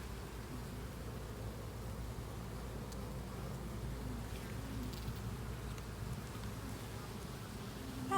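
Honey bees hum in a low, steady drone around an opened hive during a four-way colony split, a continuous soft buzz filling the air with no talking.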